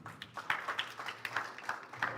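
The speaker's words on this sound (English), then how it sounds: "Can clap for them as they have their seats." An audience claps for speakers as they take their seats at a university peace talk, a brief, faint patter of scattered hand claps.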